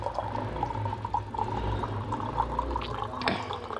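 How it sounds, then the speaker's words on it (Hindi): Water poured into a glass holding two spoonfuls of sharbat bazoori, a steady close trickle and splash running throughout with a faint low background hum. "इतना शरबत डालें और इसमें पानी डालें,"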